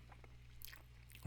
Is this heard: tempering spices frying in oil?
no